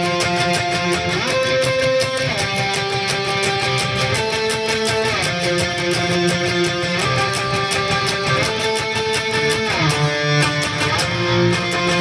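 Heavily distorted electric guitar riff, a dense, loud metal part with fast repeated picking and shifting harmonized notes, steady and continuous with no voice.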